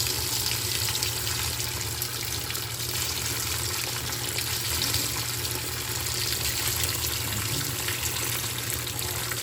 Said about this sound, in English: I'm just filling with this with water just to rinse that part out